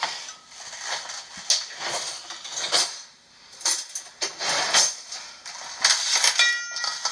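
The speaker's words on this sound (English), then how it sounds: "At this point, I'm going to stir in my milk." A utensil clinks and scrapes against a bowl while stirring milk into a mixture, with irregular metallic taps and swishes at close range and no talking.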